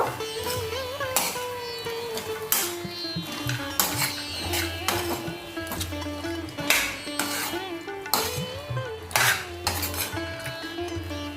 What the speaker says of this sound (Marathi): आता लगेचच आपण आपले सोयाबीन घालूया यात मिक्स करूया हे सर्व